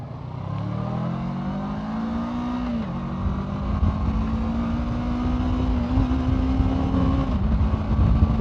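A motorcycle engine holds a steady drone whose pitch climbs, then dips abruptly during a rough clutchless gear shift, steadying afterwards and dropping again near the end, loud and close with no talking.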